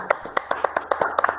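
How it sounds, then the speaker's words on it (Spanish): A handful of people clap in a brisk, steady run of roughly a dozen claps after a presentation at a live-streamed academic session. The claps are close and fairly clear, with no voices over them. "te brindamos un aplauso"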